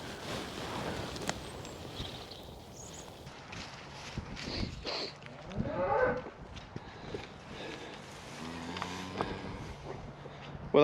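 Farm cattle lowing as they are brought in, with a few drawn-out moos rising over shuffling hooves and footsteps and general yard noise.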